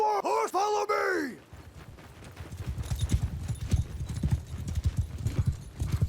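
A horse whinnies loudly at first, then hooves clip-clop in a steady trotting rhythm in the Mount & Blade II Bannerlord video game, with nothing else heard over them.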